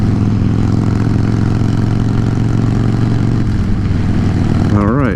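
A Harley-Davidson Dyna Low Rider S motorcycle engine runs at a steady, loud idle throughout, with a deep rumbling pulse that stays even and close. A brief rising rev comes right at the end.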